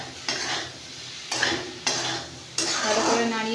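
A spoon stirs and scrapes a spiced mixture around a pan in several loud, close strokes, each sweep rasping against the metal over a low sizzle.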